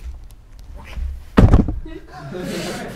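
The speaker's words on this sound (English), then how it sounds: "1 knock for yes, 2 for no." A single solid knock thumps once at mid-clip as a yes answer during a comedy show. Voices and stage murmur surround the dull hit.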